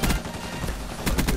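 Black Ops 3's LMG R70 machine gun fires in rapid bursts, close and loud, with sharp cracks clustering at the start and end of a short stretch.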